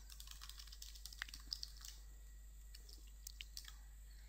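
Sparse, quiet keystrokes on a computer keyboard while a formula is entered in Excel VBA, a few isolated clicks over faint steady hum, no voices.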